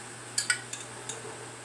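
Cooked beans go into plain rice in a pot, a few quiet metallic clinks and taps of a spoon against the pot over near-silence.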